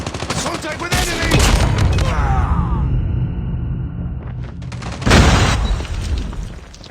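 Call of Duty Mobile grenade blast and gunfire: a loud burst of rapid shots leads into a booming explosion that trails off, with another heavy blast and gunfire erupting near the end.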